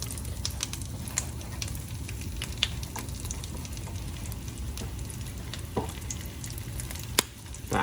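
A homemade Italian grinder sandwich toasting, giving a steady, close sizzling hiss with scattered small crackles and pops throughout.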